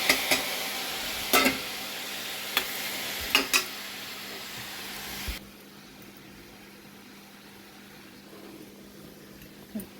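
Tomatoes go into a hot pan and sizzle, with sharp clinks of stirring against the pan in the first half before the sound drops to a quieter steady hiss.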